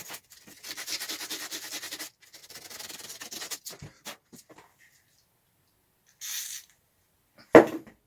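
Super rough grit sandpaper scrapes in several bursts of harsh rubbing, first long strokes then shorter ones separated by pauses, ending with a brief louder scrape.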